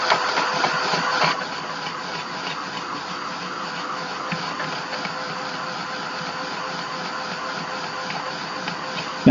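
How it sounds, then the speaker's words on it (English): A heat tool blows hot air over a mixed media art tag with a steady whirring hiss, constant and close, after a brief louder start. "So let's hit this with the heat dryer."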